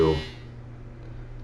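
A washer dryer buzzer sounds a short, loud electronic tone that cuts off after a fraction of a second, leaving a faint steady hum behind.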